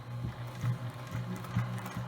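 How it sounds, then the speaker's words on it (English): A sewing machine top-stitches around the edge of a fabric coaster, a steady mechanical whir with rhythmic needle pulses repeating about every second, close up with no voices. "So let's go to the sewing machine."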